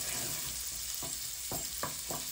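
Sausage sizzles steadily in a pan with leftover fat, with a few soft scraping stirs landing near the end over the constant frying hiss.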